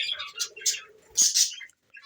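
A few quick high chirps and tweets from lovebirds, close and bright, in short bursts with brief pauses between.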